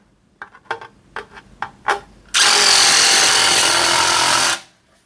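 A DeWalt DWASHSRIR shear attachment driven by an impact driver cuts through thick sheet metal, starting with a few short bursts of tool noise before a loud, steady grinding cut that runs for about two seconds and then stops abruptly.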